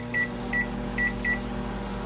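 Four short electronic beeps sound in two quick pairs over the steady low hum of an appliance running.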